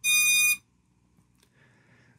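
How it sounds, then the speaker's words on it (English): Flywoo Explorer LR long-range drone sounding its lost-model alarm: one loud, piercing high beep lasting about half a second, followed by faint handling noise and a quiet tone. "the alarm will go off because it'll think that the battery's been ejected"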